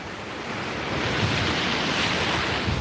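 Ocean surf in the Gulf of Mexico washes in a continuous broad rush that swells slightly partway through, with wind buffeting the microphone of someone standing in the water.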